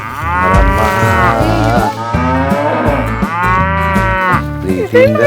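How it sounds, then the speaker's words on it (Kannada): A cow gives long, loud, close moos, several drawn-out calls one after another, with hardly any background. "ಹಸು ನೋಡಿ ಪಾಪ"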